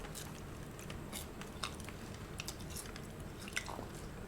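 Close-up chewing and biting of cooked Vietnamese-style lobster in Saigon, soft crunchy and squishy mouth sounds repeating irregularly, faint and without talk.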